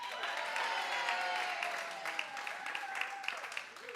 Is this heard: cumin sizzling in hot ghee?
no